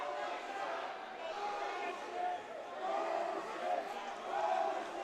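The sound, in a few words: hockey crowd voicing displeasure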